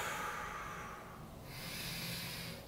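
A long, steady exhale during a guided breathing exercise, a soft airy rush of breath close to the mic that fades slightly, with no talking over it.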